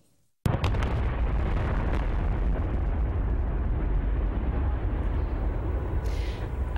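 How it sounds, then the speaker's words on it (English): Demolition implosion of two 500-foot cooling towers at a former power plant on a bay shore: a sudden loud blast followed by a long, heavy, continuous rumbling roar of the collapse. "Two 500-foot cooling towers came down with a bang today at the old Brayton Point power"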